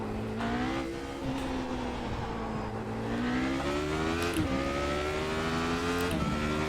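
A Radical SR8 race car's engine drones steadily at Spa-Francorchamps in the iRacing sim. The sustained, harmonic tone climbs and dips with the revs, and a quick gear-change blip comes near the end.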